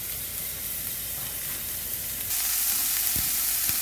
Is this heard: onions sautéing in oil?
yes